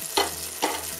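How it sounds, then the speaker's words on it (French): Butter melting in a hot pan gives a soft, steady sizzle, with two brief brighter bursts of frying crackle as it is stirred, faint and close with no talking. "Là, j'ai fait fondre à peu près une cuillère à soupe de beurre."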